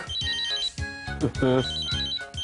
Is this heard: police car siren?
no